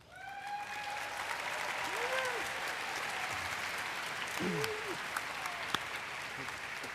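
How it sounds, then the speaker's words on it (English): A large convention crowd at Minecon 2013 applauds as Michael comes up to a panel, a steady roar of clapping with scattered whoops and whistles rising above it. "let's give an applause for Michael, who's coming up here"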